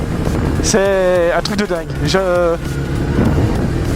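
Repaired motorcycle engine running and revving in short bursts with rising whine-like tones, someone talking excitedly over it close to the microphone.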